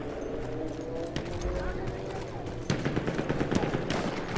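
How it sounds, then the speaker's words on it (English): Gunfire in the online shooter Battlefield 1, with bursts of rapid shots and sharp cracks over a steady battlefield din that thickens and grows louder partway through. "Wait, got gunfire, gunfire. I hear gunfire."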